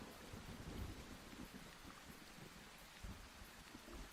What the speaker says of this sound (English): what you guys should be hearing in the background right now is some rain, a thunderstorm, okay?